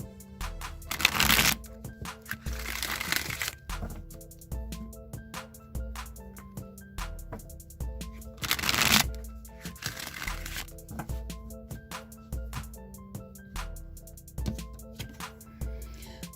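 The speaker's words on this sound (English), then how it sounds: "I'm going to shuffle the Rider-Waite deck now a few times" A Rider-Waite tarot deck being shuffled by hand, with repeated riffling and papery flutters in quick bursts, close up, over soft background music.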